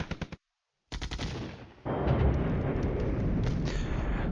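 Artillery shells firing in the Flashpoint Campaigns Cold War strategy game: a quick burst of sharp reports, a brief silence, then rapid repeated blasts leading into a loud, sustained rumble of barrage fire.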